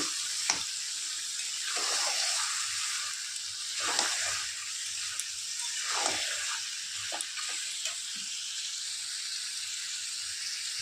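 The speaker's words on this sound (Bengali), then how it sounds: "আমি ভালো করে চিকেনটাকে কষিয়ে নেব।" Chicken sautés in a pan, giving a steady, moderately quiet hissing sizzle throughout. Occasional soft stirring clinks and scrapes sit on top of it.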